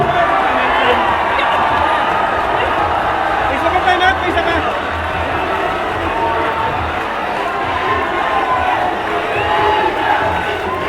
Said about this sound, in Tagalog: The crowd is fire tonight. Look at this crowd. Erupting tonight.